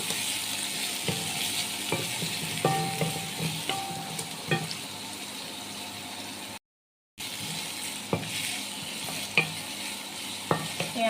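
Onions with cumin seeds sizzle steadily in a pan while a spatula scrapes and stirs them in irregular knocks, close and continuous, with a brief silent gap midway.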